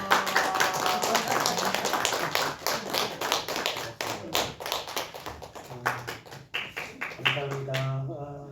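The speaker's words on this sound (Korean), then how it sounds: "박수로서 환영하겠습니다" Church congregation applauding to welcome the pastor at a Sunday afternoon service, a dense run of claps with percussive taps and thuds, mixed with voices and music-like tones that grow clearer toward the end.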